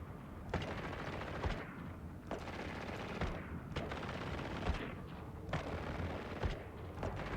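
Ship guns tracking and firing in the space game EVE Online, a rapid, steady stream of gunfire with periodic heavier thumping bursts roughly every second, sustained throughout without talk.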